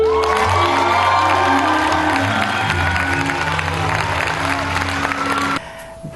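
Audience applause with some cheering fills the room after a poem recital, dense and sustained, then cuts off abruptly near the end, leaving a quieter tone.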